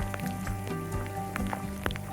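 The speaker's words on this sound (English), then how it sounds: "And the rain's really picking up." Rain picks up during a mountain thunderstorm in Gallatin National Forest near Big Sky, Montana, a steady, dense patter of drops on nearby surfaces with no voices.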